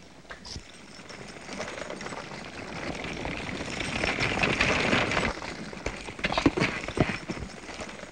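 Horse hooves clip-clop steadily at a trot, growing louder and nearer over several seconds, with creaking and rattling of a horse-drawn carriage rolling along, in a 1936 Western film.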